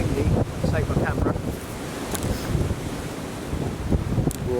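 Gusty wind buffets a camera microphone outdoors, producing loud low rumbling bursts that rise and fall across the clip, with no talk.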